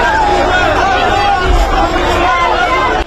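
A crowd of Israelis cheers at an outdoor screen in Tel Aviv. The cheering is a steady wash of massed voices and excited shouting, close and loud throughout.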